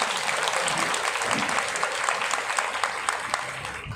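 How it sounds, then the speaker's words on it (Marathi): Loud, dense applause from an audience at a Marathi women's day gathering, honoring the visiting women guests; steady clapping fills the whole stretch with many overlapping hands. "ह्या सगळ्या ताईंसाठी जोरदार टाळ्या वाजवायच्या"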